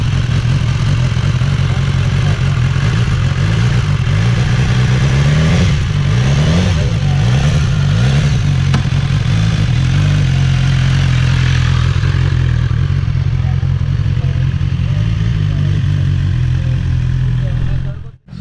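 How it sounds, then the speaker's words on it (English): A BMW S1000R naked sport motorcycle engine idles loudly and steadily, then revs up in several rising and falling bursts before settling back and cutting off at the end. "the BMW S1000R, the naked series, is about to start up"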